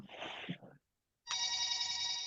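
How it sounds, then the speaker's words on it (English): A telephone rings in a room, a steady electronic trill starting after a short pause that follows brief talk, fairly loud and continuing to the end. "That's your phone?"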